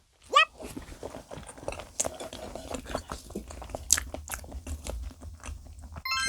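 Close, wet chewing and biting of salmon, with soft crunches and smacks in an irregular rhythm and a few quiet clicks and rustles around it.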